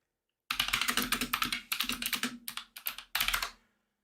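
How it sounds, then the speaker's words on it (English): Fast typing on a computer keyboard: a close, dense run of key clicks in quick bursts with short pauses, alone and fairly loud for about three seconds before stopping. "I'm going to regret typing this in."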